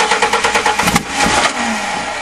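A free 1998 Ford truck engine cranks with a rhythmic, loud starter chug, then catches briefly and rumbles unevenly as it tries to start, heard up close.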